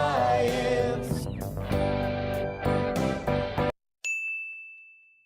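Two aluminum rods of different lengths struck in a physics demonstration ring out with bright, sustained metallic tones, then cut off and one is struck again, leaving a single pure high tone decaying alone.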